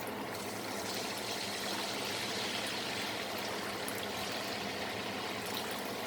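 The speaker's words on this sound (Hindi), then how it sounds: "तो हम इसमें पानी जो है थोड़ा सा ऐड करेंगे" Water poured into a pan of egg curry (anda salan, Pakistani Punjabi dhaba style) while it cooks, a steady continuous splashing trickle lasting several seconds, fairly close, with no talk.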